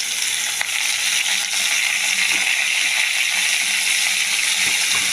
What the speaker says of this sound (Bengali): তেলে দিয়েছি কালো জিরে, শুকনো লঙ্কা আর রসুন। এবার দিয়ে দেবো একটা কাঁচা লঙ্কা। তারপর শাকটা আস্তে আস্তে আমি ছেড়ে দেবো।